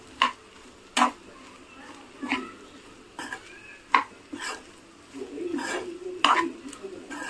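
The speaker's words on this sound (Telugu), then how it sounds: "ఇప్పుడు ఈ మసాలా మొత్తం, ఈ ఆయిల్, ఉప్పు, పసుపు ఇవన్నీ మంచిగా పడతాయి అన్నమాట. ఇట్లా మొత్తం అన్నిటికీ కలిసే వరకు కలుపుకోవాలి బాగా." A spoon scrapes and clanks around a pan, stirring boiled fish roe with masala, oil, salt and turmeric, in about eight distinct sharp strokes at irregular intervals over a faint low background.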